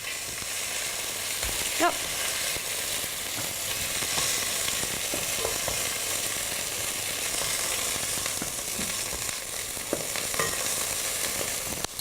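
Chicken pieces browning in a pan, a steady close sizzle and frying crackle running throughout, with occasional soft clicks of utensils and a brief spoken word.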